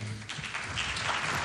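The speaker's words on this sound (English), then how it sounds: "Let's give another round of applause for that" Brief applause at the Africa Climate Summit 2025 follows a presentation, a short burst of dense clapping from an audience.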